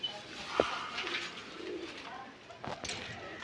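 High-flying pigeons of a golden cross breed give soft, low cooing calls close by, with a brief sharp note early on and faint background murmur.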